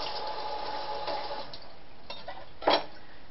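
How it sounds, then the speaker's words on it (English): Hands are rinsed under running kitchen tap water after dicing onions for meatballs. A steady, soft hiss of flowing water fades out, followed by a few light clinks and a short, louder clatter near the end. "I'm going to rinse my hands"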